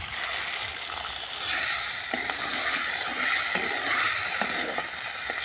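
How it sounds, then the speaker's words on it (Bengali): A little water poured into a pan of spiced rice frying in a rural home kitchen sets off a steady, broad sizzling hiss with faint clicks, continuous and fairly close. "এই জল দিয়ে দেবো অল্প করে জল দেব"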